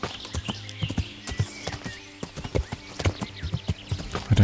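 In the video game Kingdom Come: Deliverance, a horse's hooves clip-clop in a steady, uneven rhythm of close, sharp thuds, with a faint whinny-like tone in the background.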